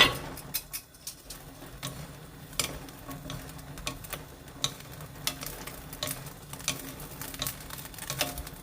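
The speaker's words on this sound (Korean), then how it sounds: "볶음팬에다가 식용유 2큰술 정도 불러줍니다 고추를 다 넣고" Shishito peppers frying in about two spoonfuls of cooking oil in a stir-fry pan, a soft steady sizzle and crackle broken by light scattered pops and clicks, quiet and close.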